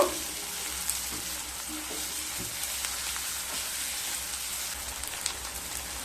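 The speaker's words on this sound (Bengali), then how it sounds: "এবার খুব ভালোভাবে রসুন পেঁয়াজ লঙ্কাকে ভেজে নেব" Garlic, onion and green and ripe chillies fry in a pan, a steady close sizzle with occasional light pops and scrapes, no voices.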